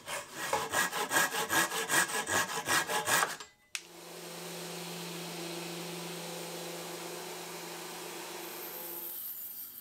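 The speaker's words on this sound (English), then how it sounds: "I could then trim off the excess on the dowels and sand them up." Rhythmic hand-saw strokes trim wooden dowels on a timber frame awning, then a steady humming sander takes over, grinding continuously and close by until the end.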